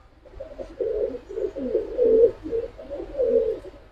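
A pigeon perched on a person's hand coos in a quick run of soft, throaty pulses, close and fairly quiet, each call rising and falling over a faint low background hum, with no talking.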